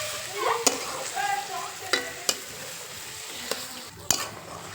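Charcoal-roasted eggplant bharit with fried onion being stirred in a hot pan: a steady soft sizzle, broken by several sharp clacks of the spoon against the pan.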